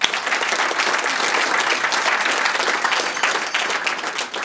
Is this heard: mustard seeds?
no